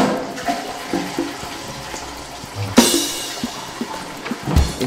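A toilet flushes with a sudden rush of water midway, followed by gurgling and draining, heard close in a quiet indoor room with faint trickling before and after.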